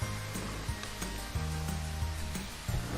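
Beef frying in a pan with softened onions over low heat, a soft steady sizzle with periodic stirring scrapes and knocks, close and fairly quiet, with no one speaking.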